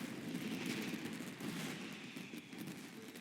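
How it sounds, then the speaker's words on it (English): Fireworks bursting in the video game Genshin Impact, heard as faint, dense, continuous crackling and popping that layers into a steady wash. "Yoimiya, this is turning into a bit of a fireworks display."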